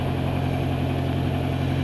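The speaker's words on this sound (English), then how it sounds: "That's the noise of the engine coming through." Engine noise carried through an intercom: a steady low thrumming drone with a constant hum, continuous and fairly loud throughout, with no voices.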